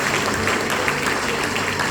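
A worship congregation applauds steadily, a continuous wash of clapping from many hands filling the room at a fairly loud, even level throughout.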